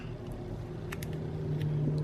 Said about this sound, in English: cars are noisy today driving by